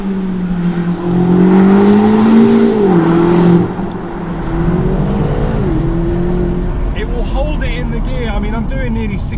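A BMW M8 Competition's engine revs hard and holds near 6,000 RPM in second gear on track, a loud sustained growl that rises and dips, partly under a voice.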